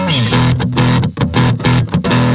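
Electric guitar runs through a TC Electronic Sub'n'Up octave pedal combined with distortion, loud thick chords in short rhythmic bursts with brief gaps between, recorded direct with no amp or microphone.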